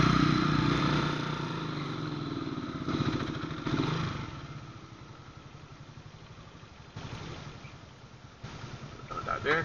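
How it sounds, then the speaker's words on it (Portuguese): Two motorcycles rumble past at close range, rising and fading over several seconds, with a brief voice and clattering underneath. "Eu vou virar, mas as duas motos vai passando"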